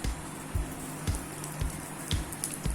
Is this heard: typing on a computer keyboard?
no